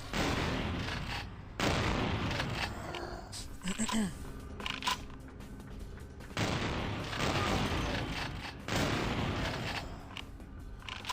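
Shotgun fire in the video game Vampire the Masquerade: Bloodlines: loud, booming blasts in several bursts over a dense, noisy game soundscape.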